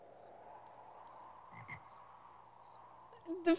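A frog croaks in a couple of low, short croaks near the middle, over a quiet background with a faint steady high tone, followed by a brief louder burst at the end.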